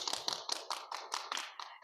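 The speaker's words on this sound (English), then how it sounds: "Could we get a round of applause for our career panelists today?" Applause for career panelists at a science and technology day event, a short run of quick, fairly soft hand claps in a steady patter.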